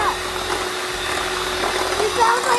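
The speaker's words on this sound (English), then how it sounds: "We're just gonna use our hand mixer." An electric hand mixer whipping a batch of neem oil body butter, a steady buzzing whir with a low motor hum, heard close and continuous while a person talks over it.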